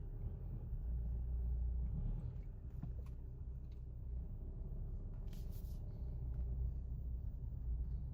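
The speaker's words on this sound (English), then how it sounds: "we will have to start our car a few times to fill it" An Audi A3 8L 1.9 TDI PD diesel engine runs after a fuel filter change, giving a faint, steady low rumble with slight surges and no voices.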